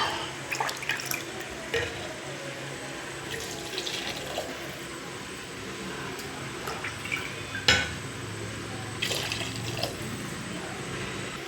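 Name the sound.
pouring water into rice for mushroom biryani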